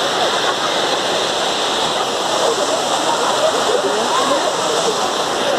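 A waterfall in São Bartolomeu park roars with a steady, dense rush of falling water, close and continuous, while a voice talks faintly beneath it.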